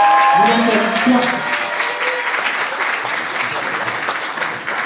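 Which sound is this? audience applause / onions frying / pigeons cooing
audience applause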